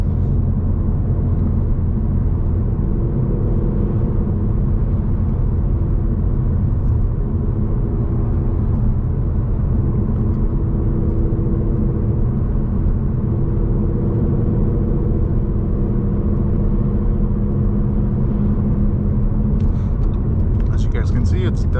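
A 2016 Ford Mustang GT with Kooks headers and a Corsa Extreme exhaust rumbling steadily, a deep, loud, continuous drone heard from inside while cruising, with a brief higher clatter near the end.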